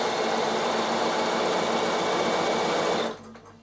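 A Bernina sewing machine stitches zigzag on wool applique for a draught stopper, its motor whirring loudly and steadily close up before stopping abruptly near the end.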